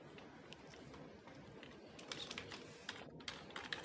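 Keystrokes on a computer keyboard while entering Bootstrap card code, a steady run of soft clicks that grows sharper and more distinct in the second half, alone at moderate distance with no talk.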